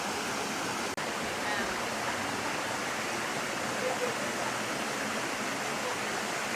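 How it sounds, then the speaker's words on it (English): A small waterfall behind a camp in Skagway, Alaska, gives a steady, broadband rushing wash from start to end, close and even, with one sharp click near the start. "So we just got a little waterfall back here."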